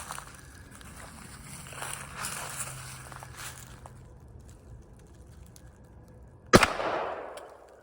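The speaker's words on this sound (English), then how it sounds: "next up, 9 mil" A single sharp 9 mm pistol shot cracks out near the end against a locomotive windshield, preceded by quiet outdoor ambience with faint shuffling, then a brief decaying echo.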